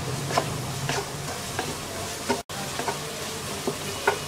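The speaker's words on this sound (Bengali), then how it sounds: "এবার বরবটি আর গাজরটাকে 2 মিনিট ভেজে নেব।" Long beans and carrots sizzle steadily in a hot pan, with soft scraping stirs every second or so and a brief dropout midway.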